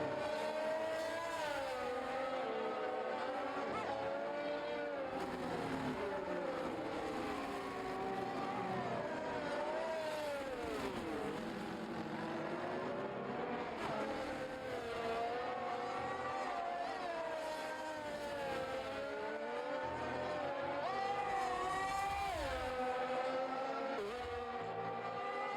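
Race cars battling and overtaking at a Belgium circuit, engines wailing and sweeping up and down in pitch through shifts and braking, with tire squeal, loud and continuous throughout.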